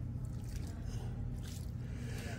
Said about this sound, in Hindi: इसमें थोड़ा थोड़ा पानी दे दीजिए